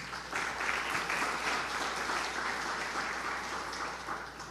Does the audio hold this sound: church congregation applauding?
yes